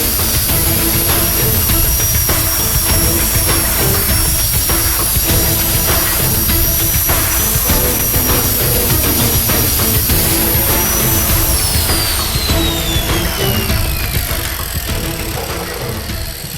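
An angle grinder blends a 45-degree bevel into a metal edge on a Cummins-powered rat rod build, making a loud, continuous grinding roar with a high whine that winds down toward the end.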